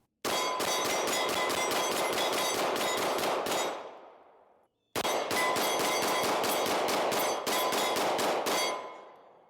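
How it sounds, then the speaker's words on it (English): Rapid strings of sharp pistol shots from a CZ P-10 C fitted with a red dot sight, fired at a target in two bursts separated by a short pause, each crack ringing out loud and close. "Okay, just shooting for accuracy here. Taking my time, methodically, one shot at a time."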